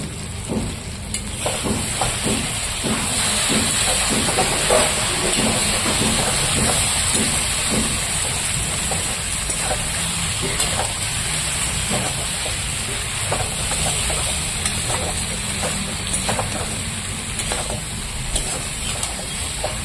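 Chicken pieces fry in oil in a pan, a continuous hissing sizzle with scattered crackles and soft scraping of stirring, steady and close throughout.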